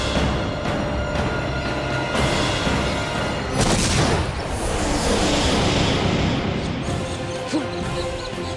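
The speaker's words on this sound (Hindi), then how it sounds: "ये कैसे धमाके की आवाज?" A loud, heavy explosion rumbles out amid continuous crashing and booming, like battle explosions layered over a dense, dramatic soundtrack in a Hindi TV serial.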